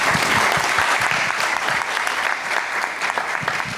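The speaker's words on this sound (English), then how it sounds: "giving her a warm round of applause as she leads us into today's conversation" An audience at a fireside chat gives a warm, steady round of applause, dense and continuous throughout, loud and close with no pauses.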